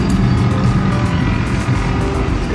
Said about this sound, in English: We have cars there, a lot of cars there.